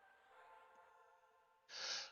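A single sharp sneeze bursts out near the end, loud and breathy, after a stretch of steady humming background noise, during voice chat on an EverQuest raid.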